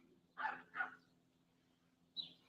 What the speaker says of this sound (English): You hear my dogs barking in the backyard